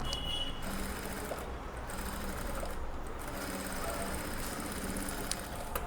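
Sewing machine stitching a blouse, running in a steady, continuous mechanical whirr close by with a faint rhythmic chatter and no voices.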